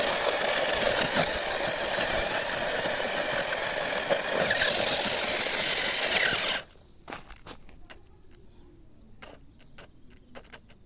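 A tractor engine chugging loudly while the tractor sinks and struggles through rough ground with a big pit, a steady rough drone for several seconds that cuts off abruptly, leaving faint clicks and knocks.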